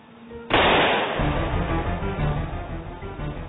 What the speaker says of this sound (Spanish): Fue un disparo.